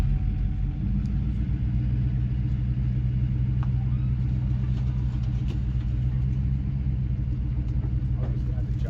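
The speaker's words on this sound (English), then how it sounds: "Now we're going to pull the Jeep around and see if we can hook on that trailer and get it out of the way." A Jeep engine rumbles steadily at close range, idling and creeping as it maneuvers into position to hook up a trailer, with a voice speaking over the constant low drone.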